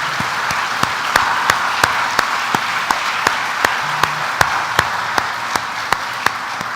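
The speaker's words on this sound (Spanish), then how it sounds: "Vamos a darle un aplauso al Señor" A church congregation applauds during a Sunday morning service, a steady wash of many hands clapping with sharper individual claps standing out at regular intervals, sustained and fairly close throughout.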